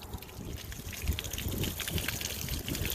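Water gushes and splashes out of a water heater tank after its anode rod is loosened while winterizing, a steady close rush lasting throughout with no voices.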